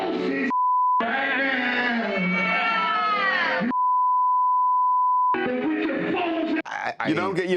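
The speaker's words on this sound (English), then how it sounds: "the bleeps definitely take the impact out" Two long, steady censor bleeps at a single pitch cut into loud, animated talk, covering slurs, each lasting a second or more, with speech resuming around them.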